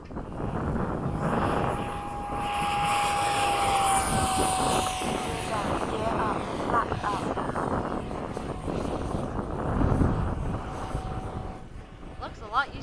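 An FMS 70mm F/A-18 model jet with an electric ducted fan, heard as a steady loud whine that holds and shifts in pitch as it takes off and flies. Wind buffets the microphone, and people talk over the sound now and then.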